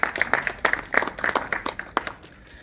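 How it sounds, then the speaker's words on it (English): A small group claps at a sports awards celebration marking 20 years of sporting excellence, a short burst of scattered, uneven hand claps at moderate volume that thins out and fades within a couple of seconds. "I think we deserve a round of applause, right?"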